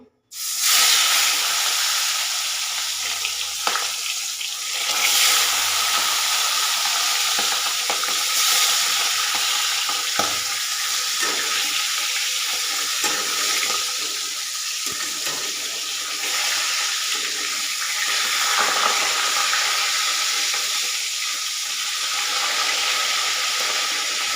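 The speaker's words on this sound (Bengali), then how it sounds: "এবার আমি একে একে মাছের মাথাগুলি ভাজতে দিয়ে দেব।" Fish heads sizzling in hot oil in a wok, a steady loud hiss and crackle that keeps going with scattered pops and spits.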